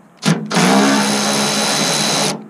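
A power tool fitted with small sockets removing parts from a first-generation Dodge: a short burst, a brief pause, then a loud, steady whirring run lasting about two seconds before cutting off, close to the listener.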